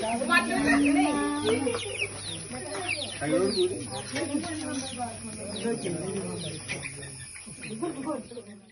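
Chickens cluck and chirp busily in a coop beside a house where a snake had swallowed chickens, overlapping calls close by, with a human voice briefly mixed in near the start.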